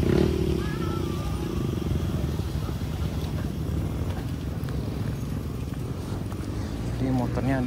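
Motorcycle engine idling on a slick, rain-wet uphill mountain road in the late afternoon, a steady low rumble running throughout, with people talking over it.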